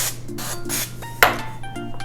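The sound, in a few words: spraying cooking spray on dough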